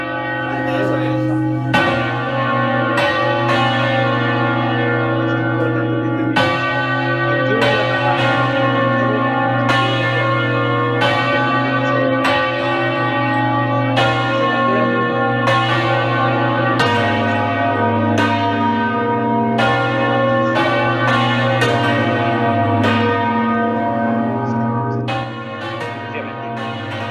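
Hand-rung church bells in the Ribera del Duero sound loud and near in a steady run of strikes, their overlapping tones ringing on continuously with no voices.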